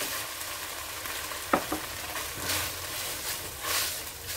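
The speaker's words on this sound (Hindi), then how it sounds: "एक टीस्पून अदरक लहसुन का पेस्ट डाली मैं, इसको अच्छे से हिला लेंगे" Ginger garlic paste sizzles in hot oil in a pan, a steady faint hiss with a few soft scraping strokes as it is stirred, no talking.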